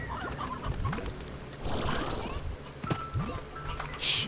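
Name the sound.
chickens clucking in Slime Rancher video game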